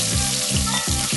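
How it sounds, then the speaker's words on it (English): Finely sliced onion hits hot oil in a pan with cardamom and cinnamon sticks, giving a close, steady sizzle with bursts of crackling and brief stirring scrapes. "add 1 onion finely sliced"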